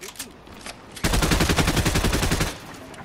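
Sustained automatic gunfire from a computer-controlled character in a battle royale video game, a loud rapid burst of shots lasting about a second and a half after a quieter stretch of distant pops.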